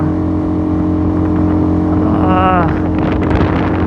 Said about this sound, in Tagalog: Grabe, parang ayaw nang umahon ng motor.